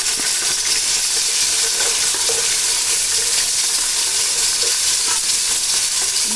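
Ginger garlic paste and green chillies fry in hot oil in a pan for degi achari chana pulao, a loud, steady, close sizzle and hiss that stays constant throughout with faint stirring and no voices.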